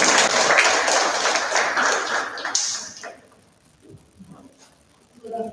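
Audience applause at a school debate competition, a loud, dense burst of clapping from a crowd that fades out after about three seconds, followed by quieter scattered sounds and a brief voice.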